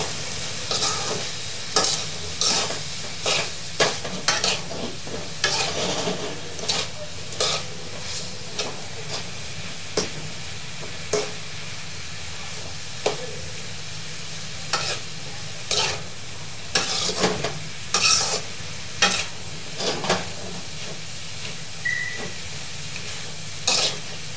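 Instant noodles stir-fried with soy sauce crackle and hiss in a pan, with repeated scraping stirs at an irregular rhythm over a steady sizzle, no voices.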